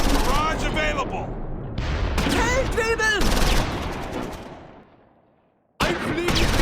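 Mortar barrage and rifle fire in the WWII strategy game Close Combat 4, Battle of the Bulge at Wiltz, with loud rolling blasts and crackling shots under speech, fading to near silence before a sudden return of noise.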